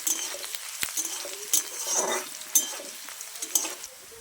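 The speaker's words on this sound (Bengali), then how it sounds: "রসুনটা একটু ভাজা ভাজা করে নেব।" Crushed garlic fries in a pan with dry red chilli, bay leaf and cumin, a light sizzle broken by sharp clinks and scrapes of a spatula against metal.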